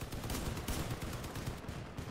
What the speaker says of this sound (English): Oh, we're doing a lot of damage with the MGs.